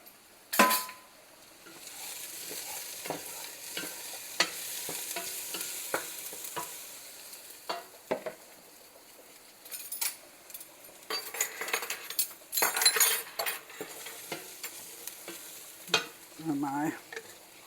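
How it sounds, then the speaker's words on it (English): Onions browning with tomato paste in a pot, a soft sizzle of frying under repeated clinks and scrapes of a utensil stirring against the metal, close and fairly quiet with no talking. "onions are kind of browning a little bit"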